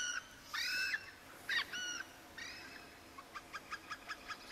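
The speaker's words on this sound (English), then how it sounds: "That is a really strange sounding bird." Odd bird calls in the Fishing Planet game on the Akhtuba River in Russia: several harsh, nasal cawing notes, then a fast run of short repeated chirps over quiet outdoor ambience.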